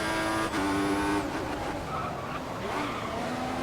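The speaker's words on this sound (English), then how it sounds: "It's a bit of oversteer." F1 2014 race car in a video game, a high engine whine with sustained tyre squeal as the car oversteers, the pitch gliding down, then rougher engine tone settling under light background noise.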